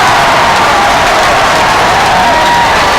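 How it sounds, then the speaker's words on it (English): Home crowd at a Glendale high school basketball game cheering in a steady, dense roar that fills the gym, with scattered shouts rising through the noise. "this crowd at Glendale, this home crowd, absolutely loves it early on"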